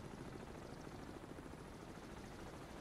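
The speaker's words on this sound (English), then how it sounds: "Helicopters." A helicopter in the submarine game Cold Waters drones as a steady, even rotor wash, moderately near and constant throughout, with no voices.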